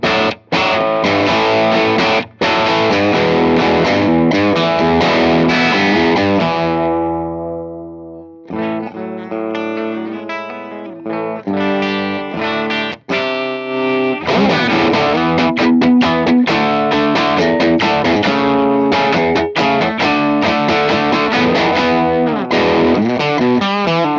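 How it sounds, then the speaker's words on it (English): An electric guitar through a Strymon amp modeller set for Vox-style breakup plays gritty, distorted chords and single-note phrases, loud and up close, with a short quieter passage midway and a slight chorus shimmer. "Let's see if it breaks up like a Vox. Breaks up and then some."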